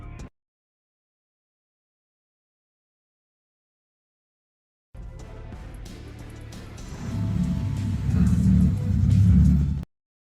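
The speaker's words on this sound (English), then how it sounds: "a car crashes just beside them" A car crashing beside a food truck: after a silent gap, a rumbling engine surges and grows louder and heavier toward a peak, then cuts off abruptly, close and alone with no voices.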